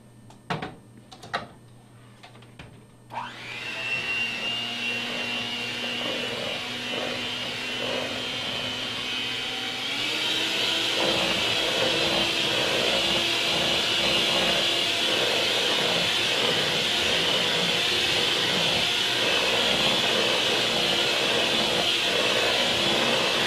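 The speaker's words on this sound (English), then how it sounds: "Now we're going to take you guys over here so we can mix it with the blender." An electric blender mixing cake batter from powdered mix whirs into a steady loud drone after a few clicks, then its pitch steps up around the midpoint and holds a continuous whine to the end.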